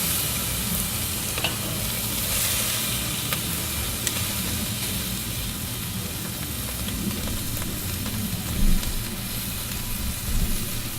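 Wagyu ribeye sizzling on a Weber grill, a continuous loud hissing fry that holds steady for about eleven seconds with faint crackles and no talking.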